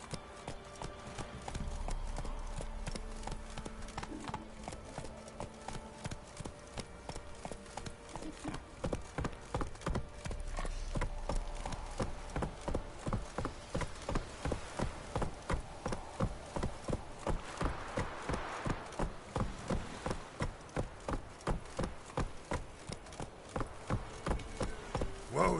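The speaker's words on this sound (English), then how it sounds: "Time to water the horses." Horse hooves clip-clop steadily in a PlayStation 4 video game, a quick regular rhythm of crisp hoof strikes on firm ground continuing throughout, fairly close and clear.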